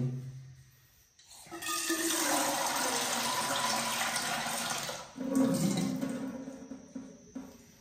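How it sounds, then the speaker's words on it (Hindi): Water is poured into a cooking pot in a home kitchen, a rushing splashing stream running for several seconds, pausing briefly, then gurgling again before fading. "एथिरे मु किछि पानी ऐड करूची।"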